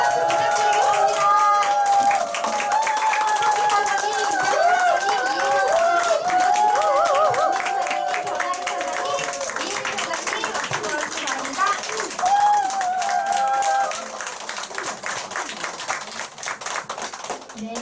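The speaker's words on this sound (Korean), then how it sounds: "큰 박수 부탁드리겠습니다" Award winners come forward at a Nu Skin group meeting to a sustained round of applause and crowd noise, with people talking and calling out over the clapping throughout before it thins near the end.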